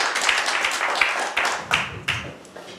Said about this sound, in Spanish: Demos un aplauso al Señor, bien fuerte